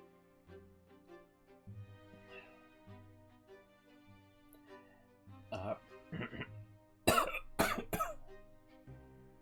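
Several rough coughs burst out in the latter half, loud and close, a couple in quick succession, following a stretch of quiet music.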